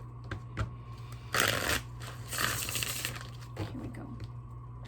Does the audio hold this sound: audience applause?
no